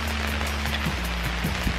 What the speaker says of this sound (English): now it's raining again